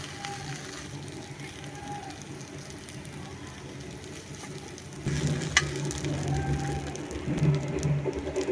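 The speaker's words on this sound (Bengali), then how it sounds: "এইভাবে কিন্তু আমি এই যে উল্টে পাল্টে ভেজে নিচ্ছি" Steady sizzling of flatbread frying in butter in a pan, growing louder and busier halfway through, with faint scraping as it is turned by hand.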